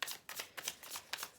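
Tarot cards being shuffled by hand, a quiet, close riffling with several soft bursts in quick irregular rhythm, no voices.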